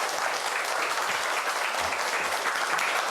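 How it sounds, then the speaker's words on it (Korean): Audience applause at a university lecture hall, a steady close crowd clapping that holds for a few seconds without voices. "박수 부탁드립니다"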